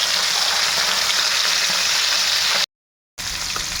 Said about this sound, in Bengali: আর এখন এই যে মাছগুলো এবারে ভেজে ফেলবো।